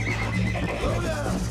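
A horse whinnies in Red Dead Redemption on PC, a short, high, wavering neigh sounding fairly close, with a person talking over it.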